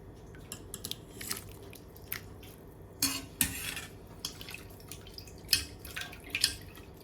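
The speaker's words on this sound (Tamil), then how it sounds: "இப்போ இதை எடுத்து அந்த வெந்நீரில் போட்டுக்கலாம்" Potato pieces dropped into a pot of hot water, several separate clinking splashes and drips, close and fairly quiet, with no talking.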